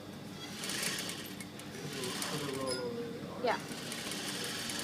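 A sewing machine runs a fast, steady whirring edge stitch along a French cuff, close and continuous, with a brief rising whine near the end and a short spoken word over it.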